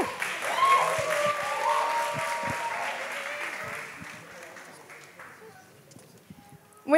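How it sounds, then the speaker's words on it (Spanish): Audience applause at a year-end concert at a music school, a burst of many hands clapping that builds, then gradually fades as voices and shouts rise amid the dwindling claps. "Un fuertísimo aplauso para Vicky"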